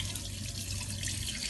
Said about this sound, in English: So we're going to rinse that out in cold water.